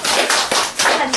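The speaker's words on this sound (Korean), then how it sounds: "박수 한 번씩 박수." A seminar audience claps in a short, brisk burst of hand claps, close and fairly loud, lasting just over a second.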